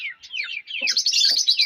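Pet cockatiels and lovebirds chirp in a quick run of bright, high tweets and trills that grow denser and louder toward the end, with a few soft lower calls mixed in, near and clear with no talk.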